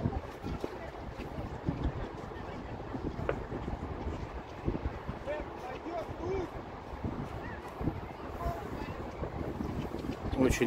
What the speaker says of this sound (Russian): Очень неприятный ветер в нашу сторону, в наши ворота.